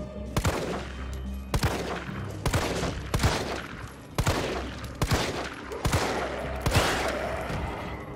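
Heavy gunshots in Resident Evil 3 Remake, roughly a dozen loud sharp blasts fired in uneven bursts close to the listener, each with a short booming tail.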